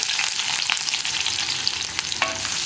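Sliced onion goes into hot coconut oil with popping mustard seeds, giving a steady, close, loud hiss and sizzle with a few sharper crackles and stirring scrapes throughout.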